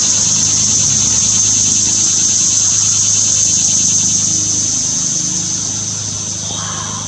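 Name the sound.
cicada singing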